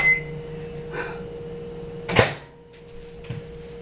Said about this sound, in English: if I don't take those out, my microwave just keeps beeping